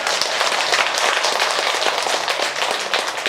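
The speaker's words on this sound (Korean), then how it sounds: "계시면 큰 박수 한번 주세요." Buddhist temple congregation on the Buddha's Birthday breaking into dense, steady applause, many hands clapping at once with no talk over it.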